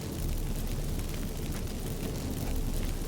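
Magic fireworks burst from activated incense in The Witcher 3, a dense, roaring crackle-and-rumble spread evenly across the whole stretch, loud and steady with no speech over it.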